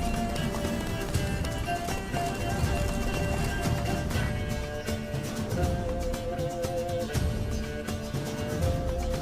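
Horse galloping in the video game The Witcher 3: Wild Hunt, Blood and Wine, rapid rhythmic hoofbeats running steadily under game music and ambience.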